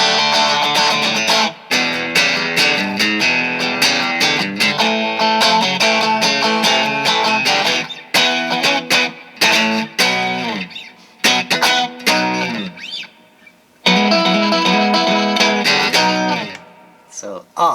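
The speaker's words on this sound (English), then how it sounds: "I can increase the distortion on my overdrive." An electric guitar played through an overdrive pedal chugs out dense, distorted rhythm chords, loud and up front, with short pauses between phrases.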